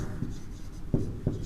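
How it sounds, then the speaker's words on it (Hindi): Marker or chalk writing on a classroom board in a geography lesson, a few soft scratchy strokes with two firmer taps near the end, close and moderately quiet. "तो यहां पर लिखते हैं मिजोरम"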